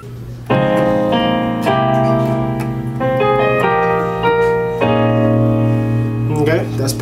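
Solo piano plays the third part of the intro to a song: held chords over a deep bass note, shifting every second or so, near and evenly loud.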